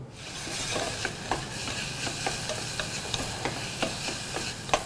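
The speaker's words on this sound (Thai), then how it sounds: "น้ำมันรำข้าวนะครับ เล็กน้อยลงในหม้อฮะ ไฟไม่ต้องแรงมากนะครับ สิ่งแรกที่เราจะใส่ลงไปก็คือ หอมใหญ่ครับผม" Onions sizzling in a little rice bran oil in a pot over moderate heat, a steady close frying hiss broken by repeated scraping stirs and light utensil clicks.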